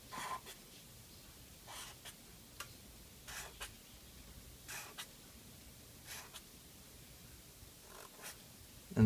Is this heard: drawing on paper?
yes